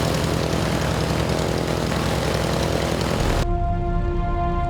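Steady, loud propeller-engine drone from a training aircraft carrying a trainee pilot and instructor, filling the cabin continuously before cutting to a quieter, tonal hum with distinct steady pitches.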